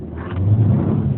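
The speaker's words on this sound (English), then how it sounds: "let's see how quickly we can get the new 2020 Sonata here up to speed" A 2020 Hyundai Sonata accelerates hard during an acceleration test, its engine rising in a loud, steady, close-up rumble with no talk over it.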